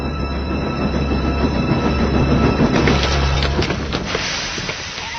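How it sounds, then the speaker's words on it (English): A wooden toy railway train rumbles and rattles steadily along its track, with a brief burst of clattering partway through as it derails, and no voices. "Falcon was derailed and hung dangerously over the edge."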